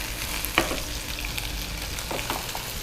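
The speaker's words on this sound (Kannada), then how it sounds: "ಇದು ಸ್ವಲ್ಪ ಎಣ್ಣೆಲಿ ಫ್ರೈ ಆಗಲಿ." Cabbage and capsicum fry in oil with a soft, constant sizzle, broken by a sharp clink of a utensil early on and a few light stirring scrapes.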